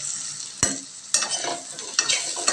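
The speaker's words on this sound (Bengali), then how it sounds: "ভালো মতন সমস্ত মশলাগুলো তেলের মধ্যে দিয়ে এইভাবে ফ্রাই করে ভাজতে হবে কিছুক্ষণ" Spices and vegetables sizzle steadily in hot oil while a utensil stirs and scrapes the pan, with several sharp clinks and scrapes standing out over the continuous close frying hiss; no voices.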